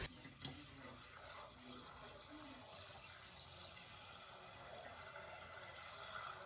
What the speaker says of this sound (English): So once you wash those chilies off, make sure all the seeds are out of them.